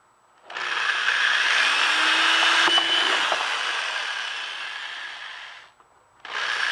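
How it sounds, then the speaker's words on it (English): Power drill boring holes into the slots of a Colonial Marine armor prop, a loud close whir running steadily for about five seconds, dropping away, then starting up again. "We need to drill holes at the top of each of these slots."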